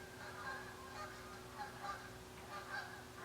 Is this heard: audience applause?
no